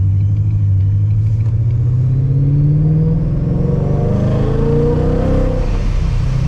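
Ford Mustang making 700 wheel horsepower on a morning drive, its engine rumbling loud and close from inside as it revs up through a gear with rising pitch, a steady drone with no talk.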